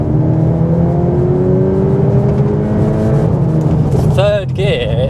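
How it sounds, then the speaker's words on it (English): A 2022 VW T-Roc R is floored at full throttle with kick down. The engine note climbs steadily and loudly in pitch, then changes abruptly near the end as the revs shift. "We'll just see what it's like when you floor it with the kick down and stuff."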